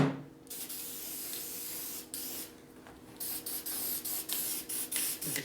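A spray gun lays a coat of paint on a part for a 1957 Harley-Davidson Panhead drag bike, a close steady hiss in short passes with brief pauses between bursts.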